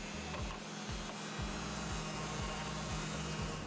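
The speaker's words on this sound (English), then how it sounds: "followed by machine sanding" A power sander works on a wooden piece with a steady, continuous motorized whir that stays fairly loud and even throughout, with no voices.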